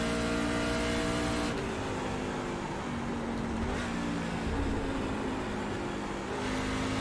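A racing truck engine in an iRacing Truck Series race at Gateway, droning loudly and steadily with distinct downshifts as the pitch drops and then revs back up, no talking.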